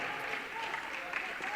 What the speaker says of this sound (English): An appreciative home crowd makes their pleasure known.